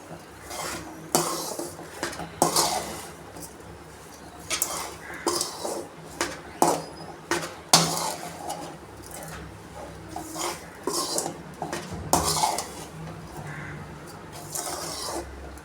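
Sugar and grated coconut being stirred into a traditional Tamil sweet in a pan, a spoon scraping and clinking against the metal in a steady, busy rhythm, close up with no talk.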